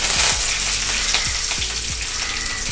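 Curry leaves tossed into hot oil already holding mustard seeds, chana dal and a dried red chili, tempering for a tomato thokku; a loud, steady crackling sizzle punctuated by several soft scraping stirs.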